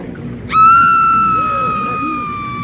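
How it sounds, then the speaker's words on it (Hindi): A woman's high, sustained scream from a horror story plays as a loud tonal wail with a sharp onset, fading slowly over a dark, rumbling background. "ये तो किसी औरत के चीखने की आवाज है"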